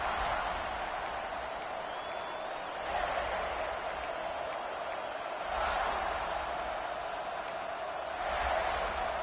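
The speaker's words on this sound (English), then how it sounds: "Listen to the crowd energy here in the early going." A football playoff crowd in a stadium gives off a steady, distant roar of massed voices early in the game, swelling and easing in broad waves with no clear talk on top.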